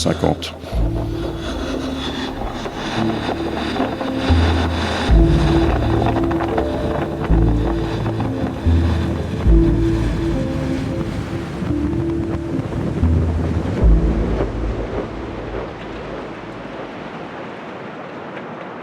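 Storm-surge sea waves of about 2.5 metres flood over a beach and parapet, a continuous loud roar of surf and rushing water with wind buffeting the microphone and heavy low rumbles throughout.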